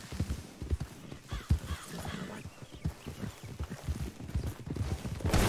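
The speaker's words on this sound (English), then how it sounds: "Horse on horse collision." Horses galloping and colliding in a cowboy video game, with quick hoof clip-clops and thuds amid game noise, fairly quiet.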